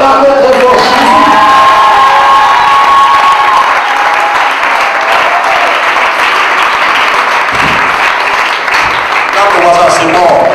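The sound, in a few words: crowd applauding and cheering for Jesus in church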